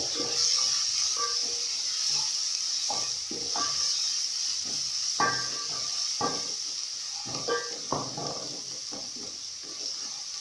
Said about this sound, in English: What I'll add is the garlic in the mixture. I'll stir together.